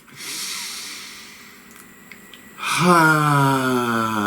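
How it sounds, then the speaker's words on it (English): A long breath is drawn in with an airy rush, fades to quiet, then gives way to a sustained resonant tone that carries on to the end. "please take a nice deep breath"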